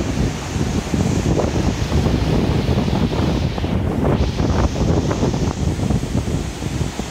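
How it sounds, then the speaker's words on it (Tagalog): Strong, roaring typhoon wind buffets the microphone continuously during Typhoon Aghon in Real, Quezon, Philippines, with a broad rushing surge of heavy waves underneath, steady and loud throughout. "Kahit po sa Kapalong, malakas din ang alon."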